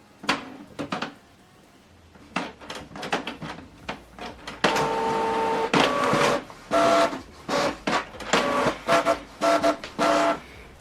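A Canon printer running off a single black-and-white page: after a couple of brief mechanical clicks and whirs, the loud, close feed motor whines and clatters in repeated bursts as the sheet passes through, with no talking.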